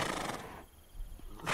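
A horse whinnies in the Estate Agent Simulator game, a loud bright neigh at the start that fades to quiet and then returns briefly near the end.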